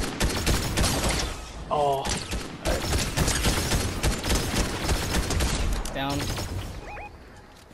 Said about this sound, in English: I don't know where he's shooting from